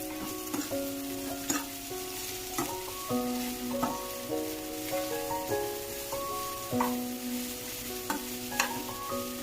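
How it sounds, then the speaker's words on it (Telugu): A spoon stirs ridge gourd peel chutney in a hot pan, with repeated scraping strokes over a steady sizzle and no voices. "ఫైవ్ మినిట్స్ తర్వాత మూత తీసి మొత్తం కలుపుకోవాలి"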